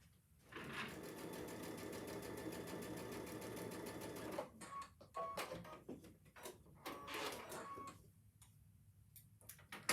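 A sewing machine runs in a steady continuous burst stitching placemat fabric pieces, then stops, followed by intermittent ticks and clicks as the work is handled.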